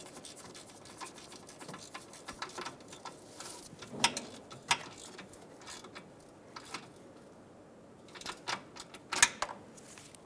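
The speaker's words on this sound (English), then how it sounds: "Snug the bracket bolts down." Ratchet snugging bracket bolts on a 2007-2011 Toyota Camry during power steering return hose work, a scatter of light, quick clicks and ticks at moderate distance, fairly faint, with no talk.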